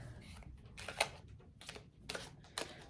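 Tarot cards being shuffled by hand, a series of soft riffling bursts and crisp card snaps repeating at an irregular pace, fairly quiet and close with no voices.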